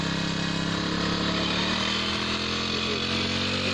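A farm pump runs after a fertilizer attachment is connected to a drip irrigation line, its small engine giving a steady, loud, unbroken motor drone close by.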